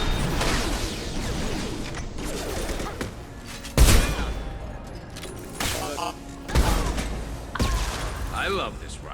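Rifle gunfire in the sci-fi shooter Mass Effect 2, a few sharp loud bursts spaced a couple of seconds apart against combat noise and mechanical clatter, with a voice talking underneath.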